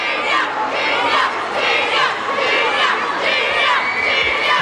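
A large crowd of fans at an appearance shouts and cheers in a loud, continuous roar that rises and falls in waves, with no single voice standing out.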